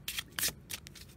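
Color Goddess casting cards being shuffled by hand during a card reading: quick riffling bursts and soft flicks, close and fairly quiet, with no voice.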